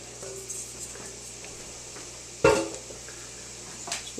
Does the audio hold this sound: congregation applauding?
no